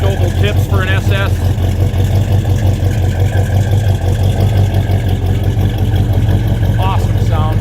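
A 1970 Chevrolet Chevelle SS 396 V8 with oval exhaust tips idles with a steady low rumble close by, while a person talks over it for part of the time.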